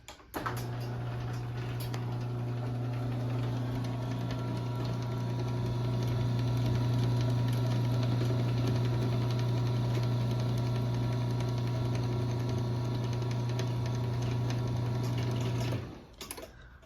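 A LiftMaster 8587WL garage door opener runs the door along its rail with a steady, loud motor hum and faint ticking, lasting about fifteen seconds before stopping abruptly.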